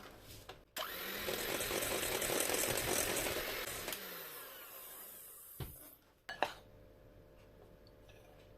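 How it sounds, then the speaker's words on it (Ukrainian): An electric hand mixer whirs steadily for several seconds as yogurt is beaten into red velvet cake batter, then stops, leaving a few knocks and clatters of the bowl. "Тепер додаю частину йогурта. і теж перемішую міксером."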